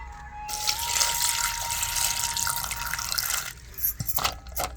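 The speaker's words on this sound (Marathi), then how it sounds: "मी गारच पाणी टाकी ते मजवळ गारच पाणी" Cold water pours steadily in a close, splashy stream for a few seconds, then stops, followed by a few drips and light clinks.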